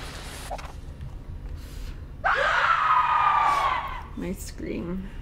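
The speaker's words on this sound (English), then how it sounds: "Nice scream." A scream in the horror video game Daylight: a loud, sustained cry of about two seconds rises abruptly and fades, set against a low background drone with a few faint vocal sounds before and after.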